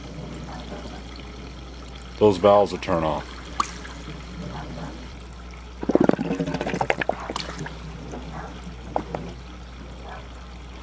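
An aquaponics system pipe drains its water and takes a gulp of air, producing two bursts of pouring and gurgling water with short gaps between them. A voice talks lightly under and between the bursts.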